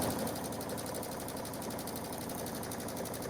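A sewing machine runs a lock stitch while quilting, a fast, even mechanical chatter of needle strokes, steady and close but fairly quiet, with no talk.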